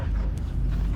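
Cosmo the space dog barking in the game Guardians of the Galaxy, a short muffled burst of barking over a heavy low rumble.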